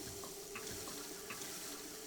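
Water runs from a tap in the video game Prey while the player drinks from it, a steady faint rush with soft gulping slurps.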